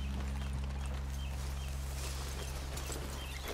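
Horses walk in the video game Red Dead Redemption 2, their hooves making a steady clip-clop on the ground over a constant low rumble of game ambience.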